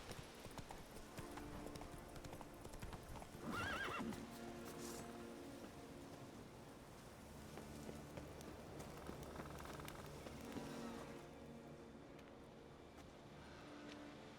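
Horse hooves clip-clopping at a run in The Witcher 3: Wild Hunt, a steady rhythm of hoofbeats carried along under game music and ambient noise for most of the stretch.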